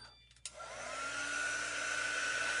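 A handheld hair dryer or heat tool switches on and spins up to a steady, loud blowing whoosh, drying a chalk-paste craft project up close, with no voices.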